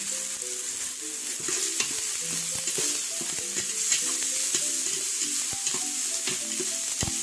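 Tomatoes sizzle in a hot frying pan while being seasoned with pepper for a squash dish, with steady crackling frying and repeated scraping stirs throughout, close and continuous, with no voices.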